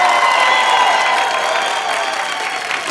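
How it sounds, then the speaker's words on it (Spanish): Audience applause on the Lagrimita y Costel TV show: a dense, steady wash of clapping with some crowd cheering, loud and sustained throughout before easing slightly near the end. "¡Esto, aplausos para Bebo!"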